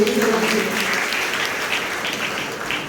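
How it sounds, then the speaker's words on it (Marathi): Audience applause at an anniversary celebration at a recreation centre in Giriz, Vasai, a steady, dense clapping of a crowd that holds loud throughout with slight tapering, no talk over it. "एकदा जोरदार टाळ्या होऊन जाऊ"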